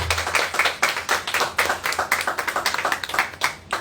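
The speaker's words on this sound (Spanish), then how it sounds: "un aplauso fuerte, fuerte, bien fuerte al Dios" Church congregation at Iglesia Pacto de Gracia in Arecibo clapping loudly in a fast, steady rhythm of sharp hand claps, close and vigorous throughout with no talking.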